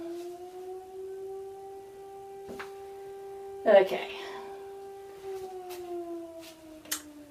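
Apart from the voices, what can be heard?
firehouse siren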